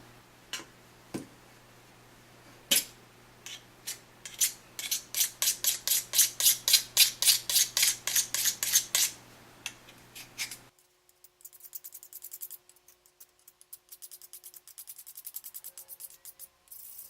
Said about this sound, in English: you're just going to take the knife and you're just going to scrape and get it so it's perfectly flat